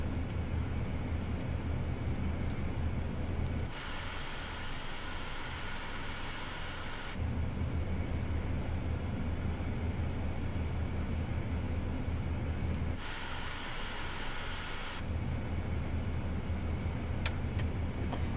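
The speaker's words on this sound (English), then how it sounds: "We're taxiing to a gate." A Cirrus Vision Jet G2 taxiing to a gate at night, its jet engine giving a steady, loud whine and rumble from inside the cabin, with a brighter hiss swelling in two long stretches.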